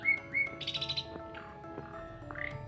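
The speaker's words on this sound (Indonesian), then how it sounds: "Itu burung jalak kacer kalau tidak salah ya teman-teman ya." A jalak kacer bird chirps in a rural village setting, giving a quick run of clear, bright tweets and trills at moderate distance, with short pauses between phrases.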